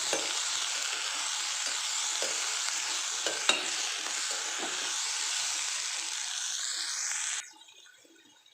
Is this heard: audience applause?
no